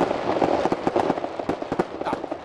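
A fireworks display sets off rapid, irregular bursts and crackling pops, dense and fairly loud, with overlapping booms fading between blasts and no speech heard.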